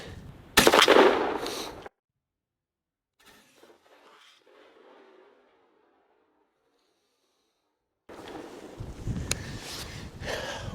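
A shotgun fires a Winchester Longbeard TSS turkey load outdoors: one loud, sharp blast near the start amid gusty wind rumble, followed by quiet and then renewed wind buffeting.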